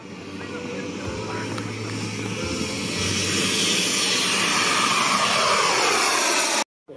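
A model jet aircraft takes off at a model show, its loud, steady turbine roar building and holding for several seconds before cutting off abruptly near the end.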